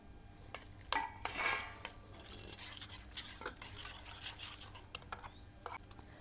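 Homemade pickle spice mix goes into hot oil in a pan and is stirred, giving a close series of scraping and clinking spoon strokes against metal with a soft sizzle, with no voices.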